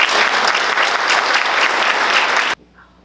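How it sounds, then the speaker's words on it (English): A room of attendees at a city council and port commission candidate forum claps loudly for a couple of seconds. The applause stops sharply, leaving near silence. "Please give him a round of applause."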